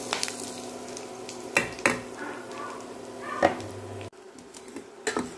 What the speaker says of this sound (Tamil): நல்லெண்ணெய் நல்லா காஞ்ச பிறகு கடுகு உளுந்த பருப்பு போடணும்.